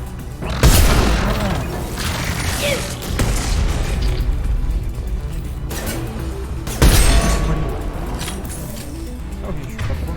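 Grenade blasts in the video game Mass Effect 2, two heavy booming explosions a few seconds apart with shattering debris, over ongoing combat noise and someone talking.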